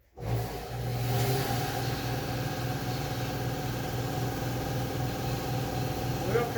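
An air compressor charges up, a loud, steady mechanical drone with a low, even hum that holds unbroken from start to finish.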